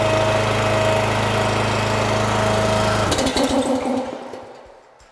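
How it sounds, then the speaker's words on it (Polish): A Pramac power generator runs steadily and loud for about three seconds, then stutters and cuts out, its engine noise rattling briefly before fading away to near silence. "Dajemy chwilę czasu, żeby agregat nabrał temperatury i próbujemy."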